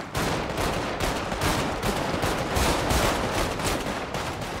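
Rapid gunfire from the video game GTA 5 in a roleplay session: dense, continuous bursts of shots close up and loud, overlapping like an automatic weapon for several seconds with no talk.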